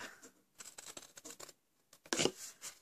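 Scissors snip through cardstock for a Stampin' Up A2 card box in close, quiet, crisp cuts, a quick series of short snips, a pause, then a louder cut.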